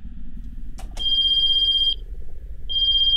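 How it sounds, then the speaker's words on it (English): Electronic cell phone ringtone in the HetaOni video game: two short clicks, then a loud, steady high-pitched tone that stops briefly and resumes, close and alone. "Sorry, it's my cell phone."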